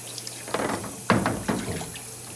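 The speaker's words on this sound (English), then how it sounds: "So getting a really good rinse in these, making sure we get edges, bottoms" Darkroom beakers rinsed under a running tap, water splashing and gurgling in uneven bursts as the glassware is turned and moved through the stream, close and moderately loud.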